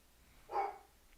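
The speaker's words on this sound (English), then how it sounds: "My dog is woofing." A single short dog bark from a pet indoors, fairly faint and slightly distant, standing alone against a quiet background.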